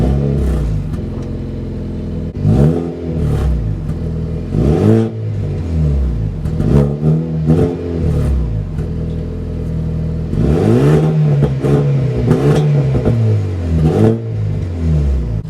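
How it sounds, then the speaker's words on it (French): A Renault Megane 4 RS engine revs repeatedly in an echoing spot marked A8, rising and falling in sharp bursts over a steady idle, loud and close. "Là on écoute le démarrage."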